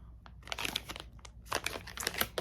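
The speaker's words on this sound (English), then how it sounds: "sorry about the crinkling" Plastic packaging of a LuminAID inflatable solar lantern crinkles as it is opened, close, sharp crackling bursts in quick irregular clusters.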